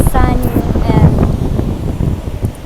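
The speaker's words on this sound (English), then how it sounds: "it's super windy, as you can probably hear" Strong wind on the Curonian Spit buffets the microphone in loud, rumbling gusts, with a voice speaking briefly underneath the blustery roar.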